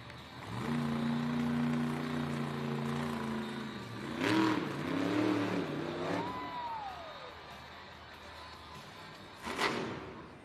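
The Grave Digger monster truck's engine roars loudly at a Monster Jam arena event, holding a steady drone, then revving and surging in pitch with crowd and arena noise around it.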